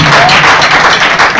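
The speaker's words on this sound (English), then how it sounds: "Now clap your hands for the leaders." An audience at a religious gathering claps for the leaders, a loud, dense run of hand claps filling the space with steady rhythmic thumps and crowd noise.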